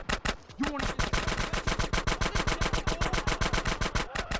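Rapid automatic gunfire from a GTA San Andreas gang shootout, loud, dense bursts of evenly spaced shots running nearly nonstop from start to finish.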